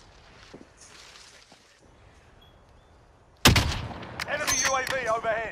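Video game gunfire in a trio match erupts suddenly after a quiet stretch, a loud close burst of shots and ringing echoes, with voices talking underneath.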